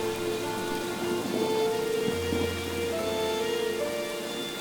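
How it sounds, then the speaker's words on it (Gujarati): Drizzling rain at night gives a steady, soft hiss that runs throughout, with sustained musical tones over it and no voices. "ઝરમર ઝરમર વરસાદ વરસે અને ઘોર અંધારી રાત."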